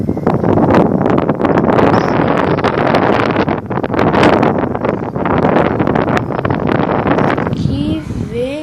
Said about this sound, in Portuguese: Olha o vento que tá vindo,